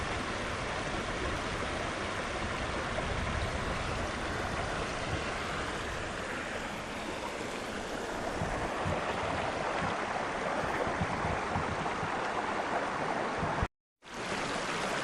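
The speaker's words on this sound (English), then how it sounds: "Here we have the River Kinder." The River Kinder flows through forest below Kinder Scout in the Peak District, a steady, loud, unbroken rush of running water close by that fills the whole stretch.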